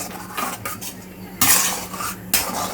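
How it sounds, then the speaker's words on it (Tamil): A spoon scrapes and knocks against a pot of boiling milk being stirred for basundi, intermittent metallic clatters and rasps over a low simmering bubble, close up. "நீங்கள் அப்பப்போ கைவிடாமல் கொஞ்சம் கலக்கிட்டே இருங்க"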